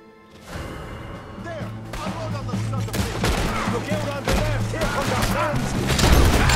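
Gunfire in the Red Dead Redemption 2 video game: repeated shots and rapid bursts with booming impacts, growing denser and louder toward the end.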